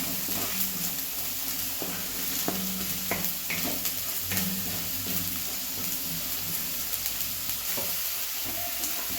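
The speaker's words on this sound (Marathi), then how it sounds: "कढीपत्ता टाकूया छान असं भाजून घेऊया सगळे मिक्स करून" Curry leaves and masoor dal masala fry in a pan as a steady sizzle, with occasional scraping and stirring sounds close by, continuous and moderately quiet throughout.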